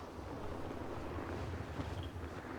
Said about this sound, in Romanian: Uite, vine barca cu aia.